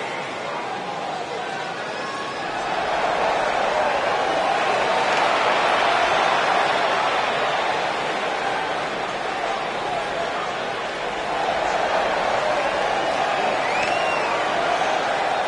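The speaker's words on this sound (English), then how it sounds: "Sounds to me, guys, like this crowd is ready to get this night started." Crowd at a wrestling event before a steel cage match cheers and roars in a sustained, broad swell, swelling louder after a few seconds and holding steady, heard from within the arena.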